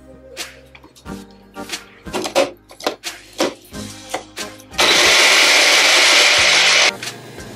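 A series of clunks and knocks, then a blender blending lemon peel and chamomile tea whirs loudly at high speed for about two seconds before cutting off.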